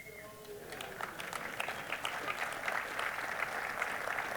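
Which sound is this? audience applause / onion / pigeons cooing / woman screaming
audience applause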